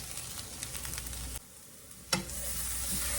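Ground beef frying in bacon grease in a pan for empanada filling, giving a steady close sizzle with a brief quieter dip and a sharp pop or clatter partway through, no voices.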